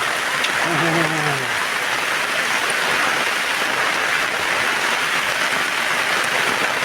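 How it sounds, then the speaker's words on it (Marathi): Steady, dense rain hiss with gusty wind noise in a cashew orchard in rural Konkan, filling the whole clip, close and loud, with a brief low voice-like sound near the start. "मित्रांनो वारा आणि पाऊस भरपूर लागतोय, तुम्ही ते बघू शकता."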